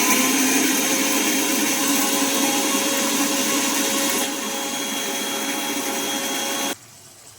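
A mixer grinder whirring loudly and steadily as it grinds coconut pieces, dropping slightly in level partway through before cutting off abruptly near the end.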